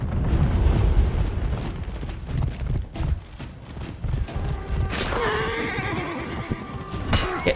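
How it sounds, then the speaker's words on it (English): Horses neighing and whinnying amid a Viking battle in a video game, with hoofbeats, clattering mechanisms and battle noise throughout, then a loud shrill whinny rising near the end. "Oh, the poor horses."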